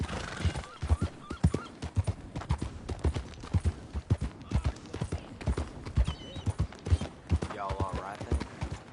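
A horse's hooves clip-clop in a steady, close rhythm at a stable in the video game Red Dead Redemption 2, with a rising whinny near the end cutting through the regular footfalls.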